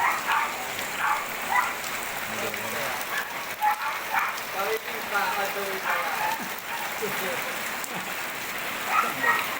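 Steady heavy rain patters on surfaces in a flooding neighborhood, dense and continuous, with faint voices and occasional distant barking beneath it.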